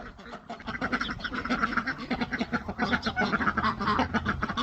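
A flock of ducks in a barn pen at dinner time quacking continuously, many overlapping close calls in a busy, rhythmic chatter.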